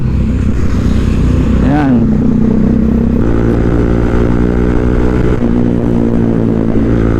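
A group of Bajaj Dominar motorcycles ride together at a farm in San Luis, Pampanga, loud steady engine drone with a sharp rev partway through, heard close while people talk over it.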